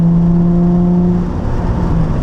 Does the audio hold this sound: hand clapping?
no